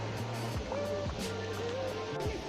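Chitrakoot Waterfalls on the Indravati River gives a constant, dense roar of falling water, with people talking faintly over it.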